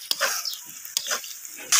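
Spice paste of ground onion, garlic and cumin frying in a pan, with sharp sizzling bursts and stirring scrapes coming in short, uneven pulses up close.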